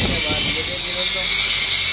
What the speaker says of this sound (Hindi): ग्राइंडर चल रहा है।